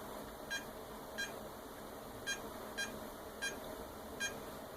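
Phone keypad beeps entering a long code, six evenly spaced short electronic tones, faint and alone over a low steady hiss.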